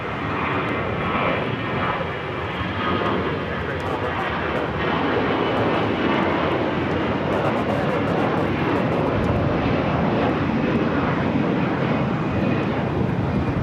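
Airplane roaring down runway 25 left at LAX on its takeoff run, a loud, continuous broadband engine rush that holds steady throughout, with faint voices under it.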